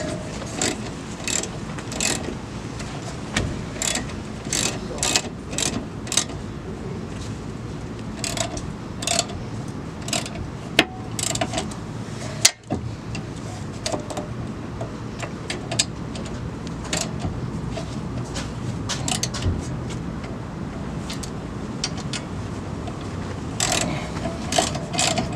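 Bolts being tightened with a ratchet while brakes are fitted to a Nissan 240SX, giving steady close clicking of the pawl in quick runs with brief pauses, no talk.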